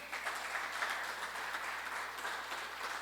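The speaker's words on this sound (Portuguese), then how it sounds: "Vamos aplaudir o Senhor?" A church congregation applauds during a worship service, producing a steady dense patter of many hands clapping at once, even and sustained, heard from a slight distance.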